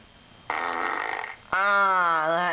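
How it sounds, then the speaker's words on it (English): Two loud, close, drawn-out fart sounds, a rough buzz followed by a longer, steadier tonal blast, with no talking over them. "I'm about to do a fart."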